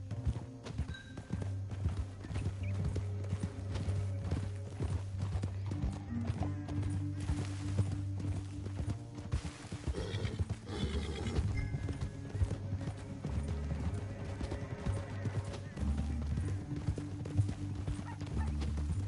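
Horses galloping in Red Dead Redemption 2, a steady stream of close, loud hoofbeats with snorts and whinnies that runs through the whole stretch over a low rumbling score.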